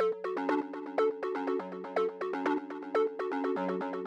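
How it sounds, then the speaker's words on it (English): A synth arpeggio for a melodic techno track repeats quick, evenly spaced notes in a looping pattern, with brighter accents recurring about once a second, clean and upfront with no voices. "So the next sound we have here is the ARP,"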